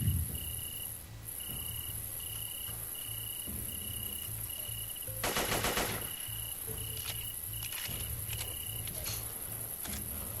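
Gunfire from the Zomborg shooter game, short bursts of shots standing out over a steady background of repeating game ambience and a high electronic tone, with a heavier cluster of shots midway.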